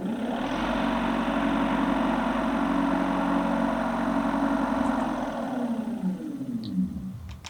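Minn Kota Ultrex Quest and brushed trolling motors running together at speed 7 on a boat, producing a steady droning hum with a low tonal whine, then easing off and tapering near the end.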